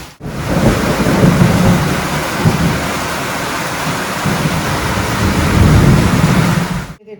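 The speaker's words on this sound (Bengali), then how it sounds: "কি অবস্থা দেখছেন, কোথায় ছিল এত বৃষ্টি, বাপরে বাপ।" Heavy downpour with rumbling thunder, rainwater from a rooftop pouring down hard; a dense, loud, continuous roar of rain with low thunder rumbles that swell and ease across the whole stretch, no voices.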